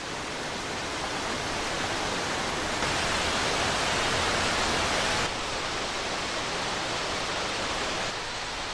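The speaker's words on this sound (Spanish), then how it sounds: "donde no se oye más que el murmullo de las cataratas" Waterfalls in a Croatian national park around Plitvice roar as a steady, dense wash of broadband rushing water, constant and enveloping, with slight shifts in intensity and no voices.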